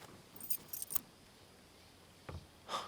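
Keys jangling as they are handed over in a dubbed action film scene, a few short metallic jingles in quick bursts, then a brief rattle and a final brighter shake, fairly close and quiet with no talk.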